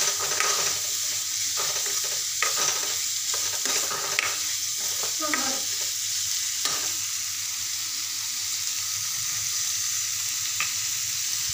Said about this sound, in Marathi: तर आपली मटकी छान अशी मस्त आता मी परतून घेते